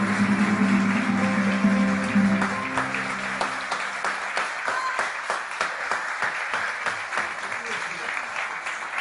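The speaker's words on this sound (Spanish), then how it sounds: "¡Aplausos!" An audience applauds after a stage performance in a variety entertainment show, dense clapping that swells and continues steadily. Sung or spoken voice fades out underneath in the first seconds.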